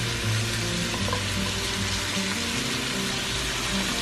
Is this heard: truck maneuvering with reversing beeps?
no